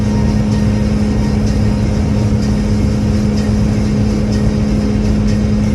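A car climbing a long hill at 75 mph, its steady engine drone and road roar holding loud and unbroken throughout, with no voices.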